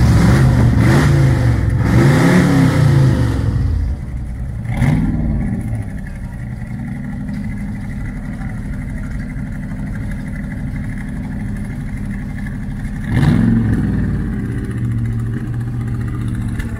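A hot rod V8 engine revs hard twice and then drops to a rumbling idle, with another short rev blipping up near the end.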